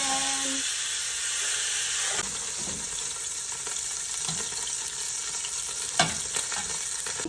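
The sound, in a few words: chicken frying in a pan for chicken mechado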